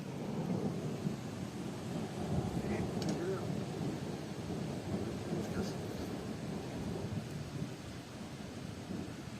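Thunder rumbling outside a camper van during a storm, heard from inside as a low, continuous roll with rain, fairly faint, with a few brief soft sounds over it.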